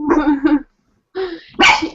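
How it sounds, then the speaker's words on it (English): Dog barks loudly and close by, with a pair of quick barks, a pause, then another couple of sharp barks. "She likes to bark at everything."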